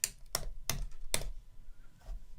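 Several distinct keystrokes on a computer keyboard, four sharp clicks in a quick uneven run followed by a softer final tap, close and clear with no talking.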